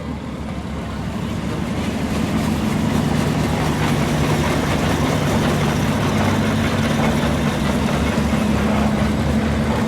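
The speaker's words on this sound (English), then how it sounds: "We got a Shiner steam engine with a trailer." A Shiner steam engine pulling a trailer chugs along in a town parade, a loud, continuous low rumble that builds slightly and stays steady close by.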